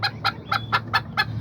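White Kikiriki chickens with a rooster, giving six evenly spaced, bright clucking calls about a quarter second apart, close and fairly loud over a low steady hum.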